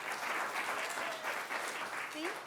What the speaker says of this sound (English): So let's give a round of applause to Sharon, everybody.